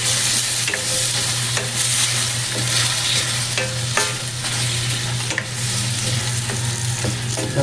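Chicken adobo is stirred in a pan after a splash of vinegar, with loud continuous frying sizzle and repeated scraping clinks of the spoon against the pan, close up and without speech.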